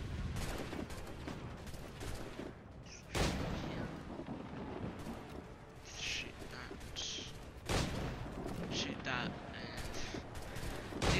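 In the pirate naval game Assassin's Creed 4 Black Flag, cannon fire sets off a ship's powder reserve, producing heavy booming blasts and rumbling gunfire amid a dense battle din, with two especially strong bursts.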